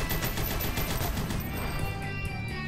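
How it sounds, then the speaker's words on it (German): Rapid machine-gun fire in the retro side-scrolling shooter Huntdown, a fast stuttering rattle of shots that is loudest at first and then thins into a lingering ring and echo. "Ja, wir nehmen das Maschinengewehr wieder mit."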